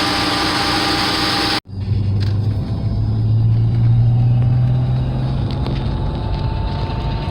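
A Mercedes-Benz 300SE runs after its cold start problem was fixed, a steady low engine rumble that rises and holds as the car pulls away, following a sharp cut near the start.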